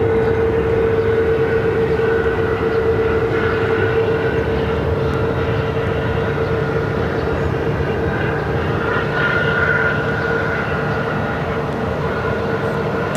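Southwest Boeing 737-700 jet landing at Phoenix airport, a sustained loud roar with a steady whining tone, heard from a distance and continuous throughout.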